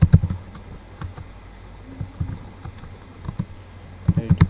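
Computer keyboard keys clatter in short bursts of typing while code is entered, close and fairly quiet, with pauses between clusters of keystrokes.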